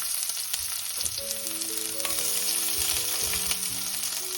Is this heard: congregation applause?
no